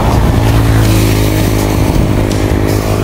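A Yamaha R3 motorcycle engine runs loud and close, a dense rumbling idle that holds steady for a few seconds with no voices.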